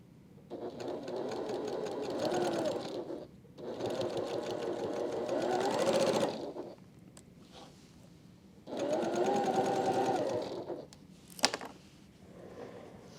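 Domestic sewing machine stitching a quilt seam at a short stitch length of just under 2, running in three steady bursts of rapid, even whirring separated by brief pauses, close and alone.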